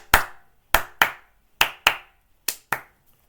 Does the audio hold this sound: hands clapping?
yes